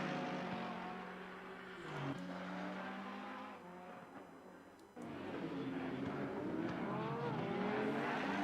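GT3 race cars at Monza in a racing game, engines roaring at high revs with gear shifts and tire squeal as several cars battle close together, loud and continuous.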